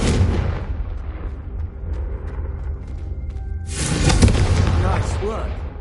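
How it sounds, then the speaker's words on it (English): A Confringo spell cast in Hogwarts Legacy, a blast that rumbles at first, then bursts louder and brighter around the middle and slowly fades, with voices talking underneath. "I think you'll find that a Confringo cast travels a bit farther than that of a spell like Incendio"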